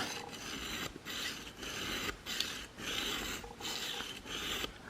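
A four-blade arrow broadhead is stroked across a diamond sharpener, producing rhythmic rasping passes about once a second, each a soft gritty scrape separated by brief pauses, close and quiet, with no voices.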